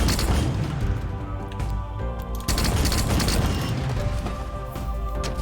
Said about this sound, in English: And this is also a, you guessed it, battle rifle.